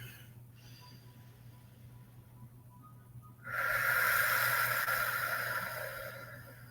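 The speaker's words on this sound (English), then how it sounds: "take a moment and breathe" After a quiet, nearly still stretch, one long, deep breath rushes in close to the microphone and holds as a loud, airy hiss for about three seconds before easing off.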